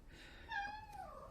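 A house cat stuck in a kitchen gives a single falling meow, moderately close and clear over a quiet indoor background.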